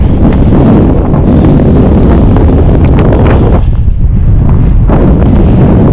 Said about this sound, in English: Not a bad day, a little bit of wind out here.